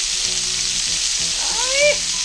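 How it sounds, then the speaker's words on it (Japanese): Meatballs searing in a pan to brown both sides, a steady broadband sizzle throughout with faint stirring clicks and a brief rising squeal near the end; no talking. "両面にね、このいい焼き目をつける。"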